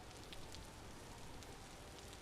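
Steady rain falls outdoors in the video game Vintage Story, a dense, even hiss of drops on surfaces that continues unbroken and fairly faint throughout.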